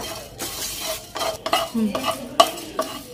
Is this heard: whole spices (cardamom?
yes